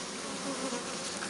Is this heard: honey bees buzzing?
yes